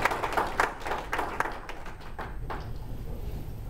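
A round of applause at a candidates night in The Meadows, scattered claps from a modest audience that start fairly strong and thin out, leaving a quiet room after a few seconds.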